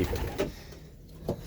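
Racing pigeons coo softly inside a loft holding about twenty birds, a few low, rounded calls rising and fading in quick succession at close range.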